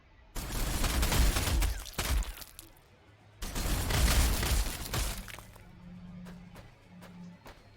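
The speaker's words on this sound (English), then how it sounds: "Shooting through his own guys at me there." Gunfire in the strategy game Warhammer 40,000: Sanctus Reach, with Space Wolves under fire: two loud, crackling bursts of rapid shots, each lasting a couple of seconds, followed by quieter scattered cracks and a low hum.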